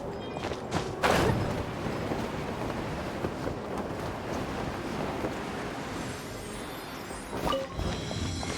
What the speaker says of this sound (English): Let's ride this wind current, shall we?